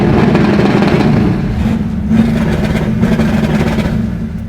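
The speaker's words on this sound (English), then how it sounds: "sometimes people will hear my car pop and they think my car's backfiring" A 1970 Chevelle SS muscle car with a nitrous setup holds a loud, steady engine drone against the rev limiter on a two-step, its rumble dipping briefly before surging again, with rough crackling texture throughout.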